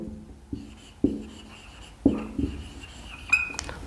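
A teacher writes on a classroom board, several short separate strokes of marker or chalk, close by and fairly quiet with no voice over them.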